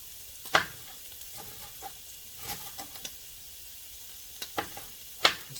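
Chickpeas sizzle and fry in a hot pan with an onion, onion powder and garlic powder nearby, a steady soft crackle broken by a few sharper stirring scrapes and pops, close and alone.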